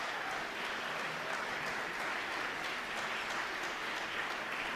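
Guests at a reception for Canadian and European leaders applaud in a steady, moderately distant patter of many hands that holds an even level throughout, with no talk over it.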